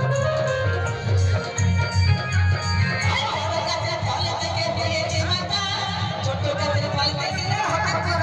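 A busy crowd at the Urmal village fair, with a dense babble of many voices and loud music running underneath throughout.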